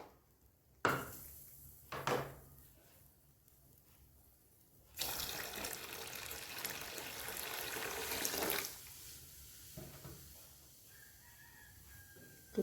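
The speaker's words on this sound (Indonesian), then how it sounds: "Dan ditambahkan air." Water poured into a pot of bubur kanji, an Indonesian rice porridge cooking with ground spices, lemongrass and cinnamon: a steady splashing stream lasting several seconds amid quiet kitchen clatter, with a faint bird call afterward.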